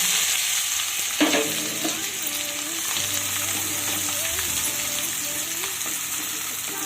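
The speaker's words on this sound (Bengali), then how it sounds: "এবার পেঁয়াজটাকে অনবরত নেড়ে চেড়ে হালকা ব্রাউন করে ভেজে নিতে হবে" Chopped onions and green chillies sizzle steadily in hot mustard oil, with a few scraping stirs of a spatula against the pan near the start and again midway, close and continuous.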